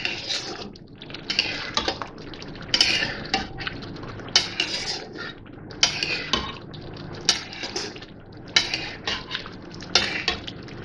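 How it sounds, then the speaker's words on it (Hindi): Mutton being stirred and fried with yogurt in a karahi, a metal spoon scraping and clinking against the pan in irregular strokes over a soft frying background, fairly close with no speech. "भूनेंगे इसको।"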